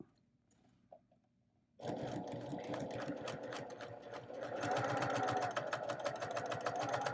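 A sewing machine stitches a quarter-inch seam for a flange binding. It starts abruptly after a near-silent moment and runs steadily and loudly to the end, its rapid mechanical rattle picking up slightly in the latter half.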